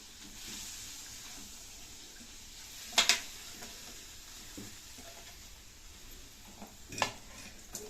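Finely chopped spinach is stirred into cooked dal in a pan. A quiet, soft sizzle and wet churning run throughout, with two brief metallic clinks of the spoon against the pan. No voices.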